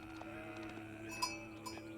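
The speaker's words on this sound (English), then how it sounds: "Ooh, there's so many sheep." Sheep in Age of Empires IV let out faint bleats against game ambience and soft clinks, a couple of brief calls near the middle of the clip.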